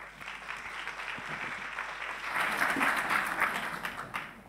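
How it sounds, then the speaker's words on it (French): Audience applause at a French-language conference closing, clapping starting moderate and swelling louder midway, a continuous crowd patter with no talk. "On l'applaudit bien fort."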